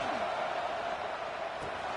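A college football stadium crowd roars in a steady, broad wash of cheering noise during a game, with no single voice standing out.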